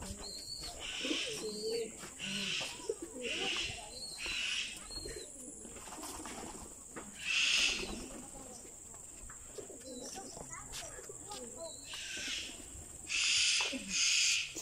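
Birds call repeatedly in the bird section of a zoo. Coos and hoots rise in bursts over a constant background hum, fairly close and moderately loud, with no voices over them.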